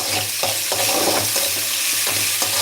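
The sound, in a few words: bottle gourd poriyal frying in a pan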